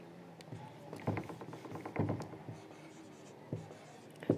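Pen writing by hand on paper while a Class 10 CBSE maths problem is worked out, heard as soft scratchy strokes with a few louder taps, close and alone with no talk.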